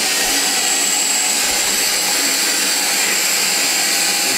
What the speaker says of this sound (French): il passait l'aspirateur pour ramasser les bêtises qu'il avait fait